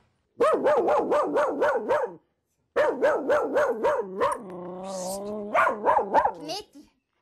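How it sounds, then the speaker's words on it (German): A territorial house dog barking at visitors in rapid, insistent runs of loud, close barks, with one short pause and a brief lower, sustained growling stretch near the end. "Also sie bellt eigentlich immer so, außer Personen, die sie schon kennen."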